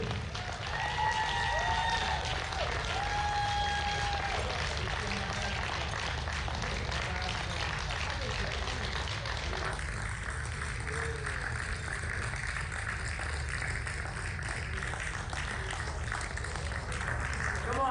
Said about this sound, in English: the audience will give them a continuous round of applause for all of our athletes